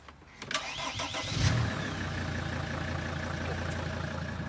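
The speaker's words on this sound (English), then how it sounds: "I first want to start the vehicle up" A Mercedes Sprinter van with very high mileage cranks and fires up, settling into a steady idle close by, with a brief whine and a rising surge before the engine runs evenly.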